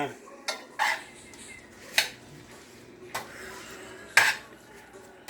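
Utensils clinking against a bowl while oil is mixed into rinsed noodles, a handful of sharp metallic taps spaced irregularly over soft stirring, close by with no talk.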